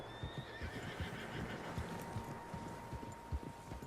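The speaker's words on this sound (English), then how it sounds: "Horses, quite a few of them." Several horses in the Red Dead Redemption 2 video game whinny and snort over quiet clip-clopping hooves, set against faint ambient tones, with no voices.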